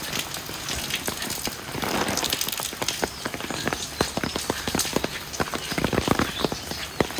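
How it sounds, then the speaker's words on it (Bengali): Steady rain hisses and patters close by, with sharper drips and knocks scattered throughout; no voices. "বৃষ্টি পড়তেছে"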